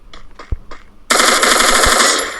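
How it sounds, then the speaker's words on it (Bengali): A UMP submachine gun firing in the Free Fire video game: a few separate single shots, then a loud, sustained rapid burst of automatic fire close up. "হিরো দূর থেকে আসলে তাকে আমি বিজন দিয়ে মারবো এবং কাছে আসলে আমি UMP দিয়ে মারবো"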